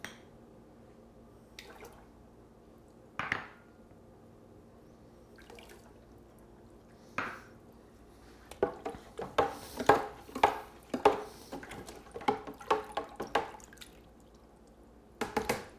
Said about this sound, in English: Now that I've finished stirring the water so that all the salt's dissolved